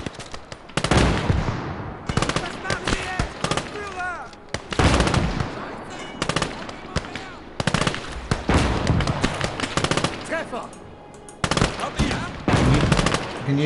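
Machine gun fire in the Gates of Hell war game, with dense repeated bursts and heavy booms throughout, loud and close, broken by short lulls.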